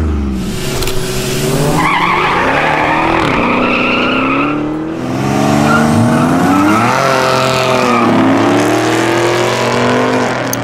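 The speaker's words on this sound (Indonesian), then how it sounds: "Ini adalah Buick Grand National." A 1986 Buick Grand National, the fastest American car of its year, roars loud and close with shifting engine revs and squealing, skidding tires across the whole stretch, pitch sweeping up and down as it accelerates.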